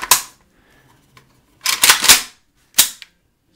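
AKM rifle magazine changeout: a sharp metallic clack, a brief click, then a rapid cluster of rattling snaps and a final loud clack, close and alone with quiet gaps between.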